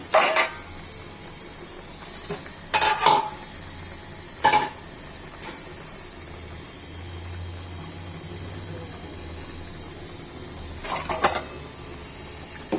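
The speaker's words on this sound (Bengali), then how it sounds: "ঢাকাটা তুলে দিচ্ছি" A lid lifted off a pot of cooking masoor lentil dal with mixed vegetables gives a few sharp metallic clinks and clatters, spread out with quiet pauses between them and a last cluster near the end.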